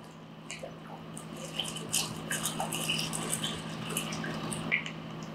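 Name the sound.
pouring measured water into pasta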